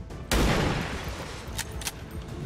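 Gunfire in the video game XCOM 2 starts with a loud burst of overlapping shots that rumbles on, followed by a couple of sharper, fainter cracks, with no talking.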